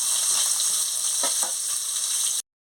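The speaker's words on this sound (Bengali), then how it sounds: "মাছগুলো ভাজা হয়ে গেছে," Fish sizzles steadily in hot oil in a pan, a constant bright crackle with a few louder spits partway through. It stops abruptly near the end.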